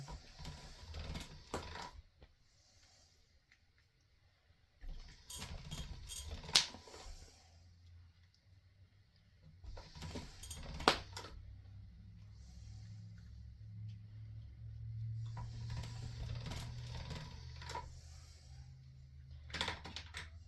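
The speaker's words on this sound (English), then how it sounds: "Usually I pause while I'm running the pasta machine, but because these are so small, I figured I'd just let it run." Pasta machine rolling thin slices of polymer clay cane, quiet repeated bursts of mechanical whirring and clicking at a close distance, separated by short pauses with a low background hum.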